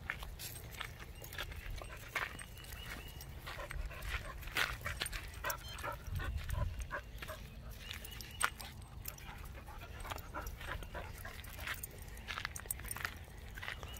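Several dogs on a group pack walk pant and occasionally whimper, close and fairly soft, with scattered footsteps and rustling throughout.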